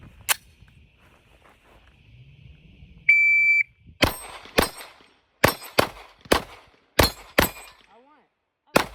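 Pistol shots from a Stoger STR 9C and a Glock 19X striking steel dueling tree plates: a timer beep, then about ten sharp cracks with metallic rings in an uneven rapid string, close and loud.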